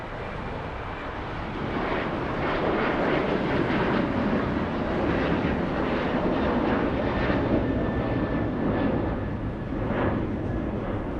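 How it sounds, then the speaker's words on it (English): United Airlines jet airliner on its takeoff roll, a steady broad engine roar heard from inside at moderate loudness, holding for about ten seconds with no voices. "Let's go for the next takeoff."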